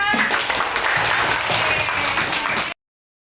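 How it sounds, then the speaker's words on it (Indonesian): A primary school class at SDIT Nurul Fikri Tulungagung claps hands together, a dense burst of close, loud clapping that continues steadily before cutting off abruptly. "beri tepuk tangan semuanya"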